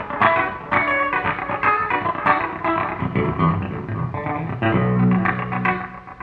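Electric guitar picked hard with a sharp-pointed pick through a light delay effect, a steady run of bright, distinct attacks with echoing repeats trailing each note, played alone and fairly loud.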